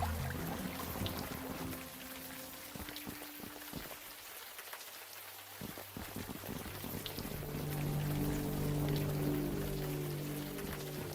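Rain falls steadily in the video game Unavowed, a constant soft hiss of drops with a low background hum and no voices.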